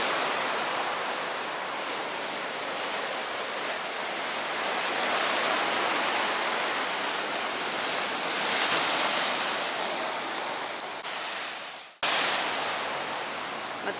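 Sea waves breaking on the Montenegro coast in January, a loud continuous roar of surf that swells and eases, with a brief drop near the end and no voices.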